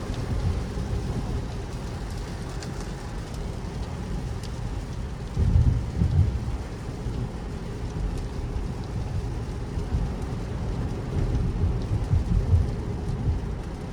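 Heavy rain drums steadily on a 2025 Toyota Camry SE AWD while driving, with low rumbling thunder swelling through the continuous downpour, no talking.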